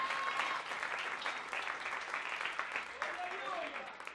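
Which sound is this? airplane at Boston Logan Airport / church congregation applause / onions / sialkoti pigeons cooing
church congregation applause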